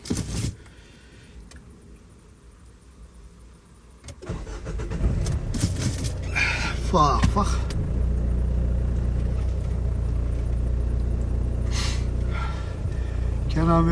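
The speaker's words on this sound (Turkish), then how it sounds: "Arabamızı çalıştıralım." A car engine cranks and starts partway through, then settles into a steady, close idle rumble that carries on to the end of the clip.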